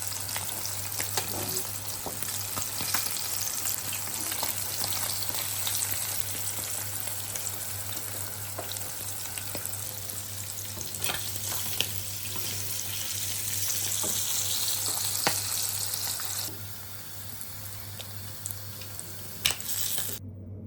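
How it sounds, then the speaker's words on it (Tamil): Sardine fish frying in hot oil in a pan, a continuous even sizzle and crackle at close range with occasional louder pops and no talk. "இப்போ இந்த மீன் பொரியல் நல்லா பொறி விட்டுட்டு நாங்கள் இந்த ஸ்டேஜில் இந்த மீன் பொரியலை நாங்கள் எடுத்துடலாம்"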